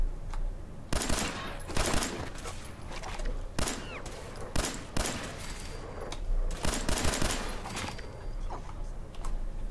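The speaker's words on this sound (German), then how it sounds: "Ich schieße natürlich gleich mal wieder erstmal gegen die Mauer." Gunfire in the video game Fallout 4 as a player shoots at a wall: loud, sharp shots in uneven bursts and single cracks across the whole stretch, with faint ticking in the gaps and no talking.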